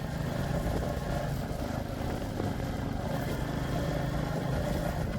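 Royal Enfield Classic Reborn 350 Stealth Black motorcycle with an engine that intermittently misfires and jerks: a continuous, close engine drone with an uneven, rough texture, heard alone.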